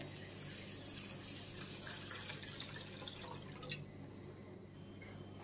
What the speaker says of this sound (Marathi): 2-3 वेळा नॉर्मल पाण्यातून हे धुवून घ्यायचे, स्वच्छ करून घ्यायचे